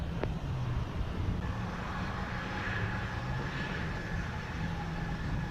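Airliner landing at Montego Bay airport in Jamaica, a steady broadband engine roar with a low drone held throughout, moderately loud and without talk.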